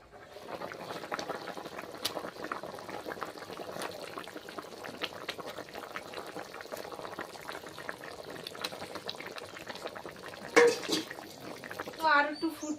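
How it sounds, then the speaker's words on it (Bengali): Fish curry boiling hard in a pot, a steady bubbling and popping texture throughout, with a person talking over it toward the end. "তরকারিটা আমার গম গম করে ফুটছে"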